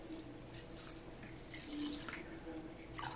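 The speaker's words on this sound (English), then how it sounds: "Just putting in the cleaning solution here to the ultrasonic cleaner." Cleaning solution poured into an ultrasonic cleaner while restoring a very rusty Rolex watch, a soft, steady trickle of liquid close by at low level.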